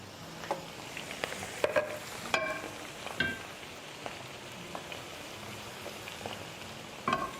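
Oil in a frying pan heats over medium heat while cooking a Spanish tortilla, giving a soft, steady crackle with scattered sharper pops and spits, fairly close and with no talking.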